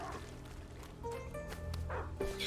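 In the video game Ori and the Will of the Wisps, a dog gives a few short, fairly faint barks and yips over a soft ambient game soundscape with tonal music notes.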